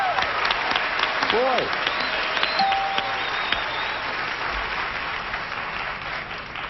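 Studio audience applause on a Christmas quiz game show, a steady wash of clapping throughout with a host's voice speaking briefly over it near the start.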